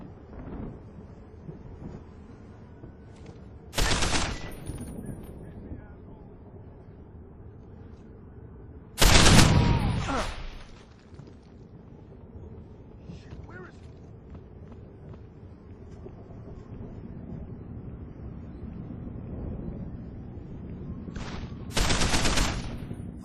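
Sharp bursts of gunfire erupt in three separate loud volleys during an assault in Deus Ex: Human Revolution, separated by a low rumbling background.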